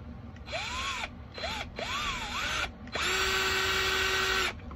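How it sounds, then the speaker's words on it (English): A power drill whirs in several short bursts, its pitch rising and falling, then one longer steady run; close and loud, no talking. "so after like 10 more minutes of drilling, I finally got it"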